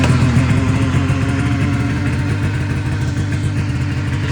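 A snowmobile engine runs at a steady, loud idle after a pull start, a continuous low throbbing drone outdoors on wet snow with no talking.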